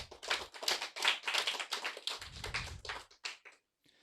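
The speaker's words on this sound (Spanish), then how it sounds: "Dele fuertes palmas al Todopoderoso." A church congregation claps hard and fast in a close, crisp flurry that thins into a few last scattered claps before going quiet, with no talk over it.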